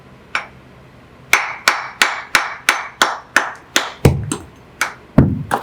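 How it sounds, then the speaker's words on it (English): A mason's hammer strikes bricks repeatedly to clean and size them: a loud, close series of about a dozen sharp cracking blows in a fairly even rhythm, each ringing briefly, with a couple of heavier thuds near the end. "I can also use a mason's hammer to clean these bricks."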